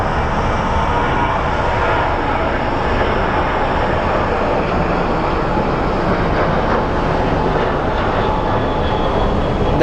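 WestJet airliner departing Phoenix Sky Harbor airport, a steady broadband jet engine roar that holds loud and constant throughout, with no talk over it.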